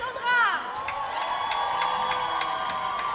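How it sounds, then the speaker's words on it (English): Tournament crowd at a women's tchoukball final between Italy and Switzerland cheering and whooping, a loud swell of shouts early on, then sustained cheering with scattered claps. "Some people there getting a larger round of applause from the crowd than the others"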